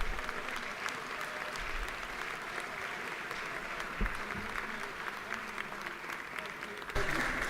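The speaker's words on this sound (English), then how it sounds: "Let's give them a round of applause" Sustained round of applause fills a legislative chamber during a House floor session, steady dense clapping from many hands with a few louder bursts near the end.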